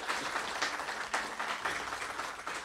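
Round of applause for EverQuest contest winners at Fippy Fest 2024: steady crowd clapping runs throughout, moderately distant and fairly even, with no voices over it.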